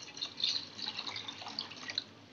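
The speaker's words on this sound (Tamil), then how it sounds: "இப்போ கரைச்சி வச்சிருக்க புளி தண்ணியை சேர்த்துக்கலாம்." Tamarind water poured into a fish curry with white yams, a light trickling and dripping splash close by, continuous and fairly soft.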